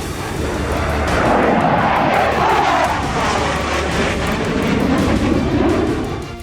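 Military fighter jets roaring overhead in a war setting, a dense, steady, loud rumble with broad hiss that swells and holds throughout without pause.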